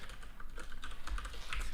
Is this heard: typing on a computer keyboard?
yes